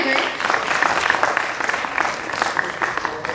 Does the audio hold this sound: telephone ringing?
no